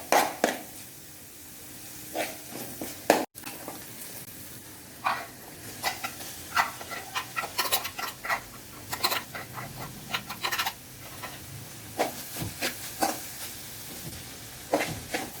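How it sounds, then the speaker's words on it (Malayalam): Boiled netholi anchovies tossed with onion and turmeric in a pan, giving repeated scraping stir strokes over a steady low sizzle at close range, with no talking. "മഞ്ഞൾപ്പൊടി ഇട്ട് 1 മിനിറ്റ് വഴറ്റിയതിന് ശേഷം നമ്മൾ വേവിച്ച് വെച്ചിരിക്കുന്ന നെത്തോലി ഇതിൽ കൂടെ ഇട്ട് കൊടുക്കാം"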